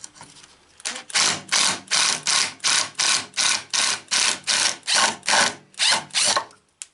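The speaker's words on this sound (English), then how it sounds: "We got the Allen screw tight." A ratchet or hand driver clicks in a steady run of about a dozen rapid, even bursts, tightening an Allen screw on a wood lathe while turning catalpa for a table tray, close and loud with no talking.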